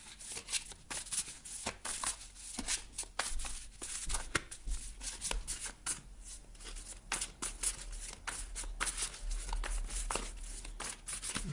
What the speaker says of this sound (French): Je mélange votre jeu et je suis à vous dans quelques secondes.